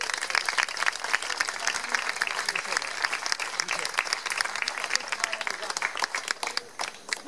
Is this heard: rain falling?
no